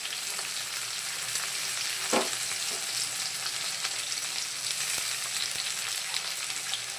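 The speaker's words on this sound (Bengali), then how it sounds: "পেঁয়াজটা একটু ভাজা হবে" Chopped onions fry in a pan with a steady, bright sizzle that holds even throughout, with one brief clink partway in and no talking.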